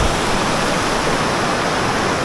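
Upper mainstream of the Tone River in Minakami, a loud, continuous broadband rush of flowing river water close by, steady throughout with no talking.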